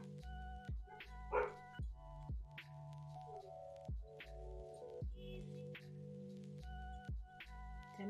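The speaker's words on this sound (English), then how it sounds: "Sorry about the dogs." Several dogs bark in short, sharp bursts, with yips and whimpers between them, fairly close against a steady low indoor hum.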